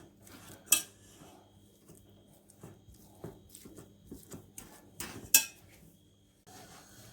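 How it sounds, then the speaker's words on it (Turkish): Boiled potatoes mashed in a pan with the back of a fork, soft irregular squishing punctuated by a few sharp metallic clinks of the fork against the pan. "Şimdi çatalla eziyorum patateslerimi."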